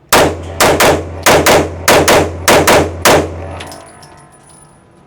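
A 5-inch Kimber 2K11 Comp pistol fires eight sharp, loud shots in quick pairs and bursts, each cracking close and echoing, ending in a fading ring and quiet.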